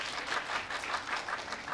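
Brief, modest applause from a comedy audience at a Japanese manzai show, a soft patter of hand claps in a steady rhythm with no voices.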